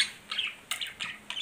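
A colourful pet bird calls indoors, giving four or five quick, fairly faint squawking chirps in an uneven rhythm with no talking over it.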